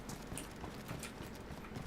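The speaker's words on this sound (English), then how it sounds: "Your horse runs off." Soft, fairly quiet hoofbeats clip-clop steadily against a faint windy background, no voices present.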